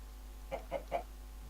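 A chicken in the block-building game Minecraft gives three quick clucks in a row, clear and fairly close against a quiet background hum, with no talking.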